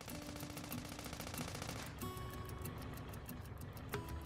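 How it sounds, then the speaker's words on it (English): Machine gun fire in the Sand Land video game, a steady rapid stream of shots that keeps going for several seconds, mixed with game engine and vehicle hum, without anyone talking over it. "The machine gun's actually pretty good for taking these things out."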